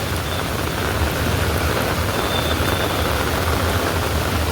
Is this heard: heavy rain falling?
yes